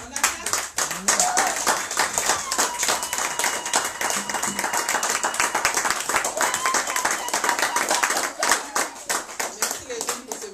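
A church congregation claps along steadily at a service, dense rhythmic hand claps filling the space for the whole stretch, with voices and singing mixed underneath.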